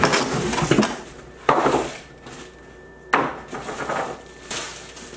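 Stainless steel saucepan from an 11-piece Belgique cookware set handled in a kitchen, giving several sharp knocks and clanks of metal set down at intervals, close and fairly loud with quieter shuffling between.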